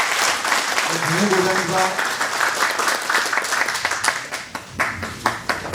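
Applause fills a crowded hall at the inaugural ceremony of a Suncheon city livestock associations federation, welcoming a department head to the stage; steady dense clapping runs throughout, with an announcer's voice over it and scattered claps trailing off at the end.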